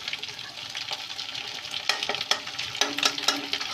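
Egg is stirred and scrambled in a hot pan for a vegetable noodle dish, giving a steady close sizzle with scraping strokes that grow sharper toward the end.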